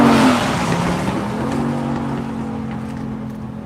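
A Ford Boss 302 race car roars past on a road course at VIR, its loud engine note peaking at the start and then fading steadily as it moves away, with no talk.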